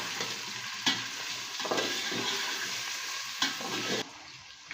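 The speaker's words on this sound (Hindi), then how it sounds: "प्याज हमारा तैयार हो गया, अब इसमें चिकन को ऐड कर देंगे।" Chicken frying in a pan with onions and ginger-garlic paste, a steady broadband sizzle with a few stirring clanks, close and fairly loud, cutting off near the end.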